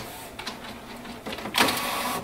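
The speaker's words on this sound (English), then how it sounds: "Cartridge system flying back and forth with a printhead" A Canon MAXIFY MB2020 inkjet printer shuttles its printhead back and forth, giving soft mechanical whirs and sliding passes with a louder burst toward the end, heard up close with no talk.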